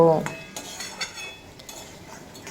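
Ridge gourd and potato fry uncovered in a pan, a low steady sizzle broken by clinking spatula strokes against the metal, with a brief voice at the start and a sharp knock at the end.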